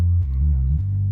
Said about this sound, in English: because this is the sound of synth bass, not the bass like in the instrument.